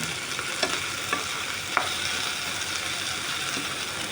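Onion, tomato and green chili are stirred in a pan with a constant soft sizzle of frying. A few faint scrapes and taps of the utensil against the pan come through, and no one talks.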